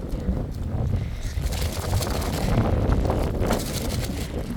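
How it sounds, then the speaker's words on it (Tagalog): Strong wind buffets the microphone outdoors with a steady low roar and gusty rumble, continuous and close throughout. "dito sa labas, ang lakas ng hangin."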